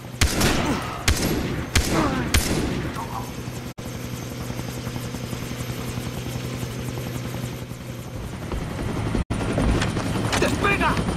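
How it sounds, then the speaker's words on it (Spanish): Helicopter in the video game Far Cry 3, a steady loud rotor and engine drone running through the whole stretch, with bursts of gunfire early on and voices talking over it. "El helicóptero."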